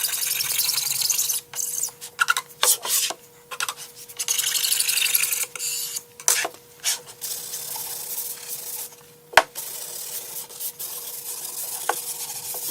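Melamine shelf edges are worked with a file or sanding block, giving bursts of scraping rasp strokes in an irregular rhythm, close and fairly loud, with short pauses between passes and no talking.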